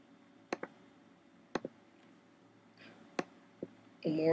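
Computer mouse clicks on a Mac, four sharp, distinct clicks, some doubled, spaced about a second apart against a quiet background, ending in a short electronic tone.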